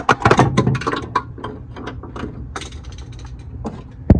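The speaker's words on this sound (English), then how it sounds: "I get to torque all these down" A ratchet tightening airbox bolts on a Mazda Miata stock intake, with a quick burst of close mechanical clicks and clatter at first, then quieter intermittent ratcheting and a final sharp knock.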